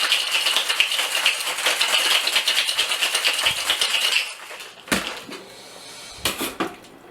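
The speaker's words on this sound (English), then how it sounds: "Now we're shaking this first time to mix in everything, dilute the drink, and chill everything out" Ice rattles hard inside a metal tin cocktail shaker as a whiskey sour is shaken in fast, steady rhythmic strokes for about four seconds, followed by a few separate metallic taps and clinks.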